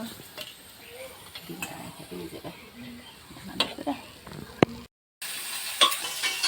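Bitter gourd fries quietly in a pan, a soft low sizzle with scattered stirring scrapes and clinks. The sound cuts out briefly, then returns brighter and hissier.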